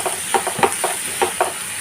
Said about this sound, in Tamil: ஒரு 3 நிமிஷம் போல் வந்து நல்லா அந்த பட்டரில் வந்து வதக்கட்டும்